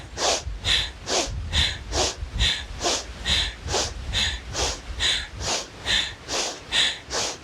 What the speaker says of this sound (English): Strong inhales and exhales. Really use your belly for the exhales to push the breath out.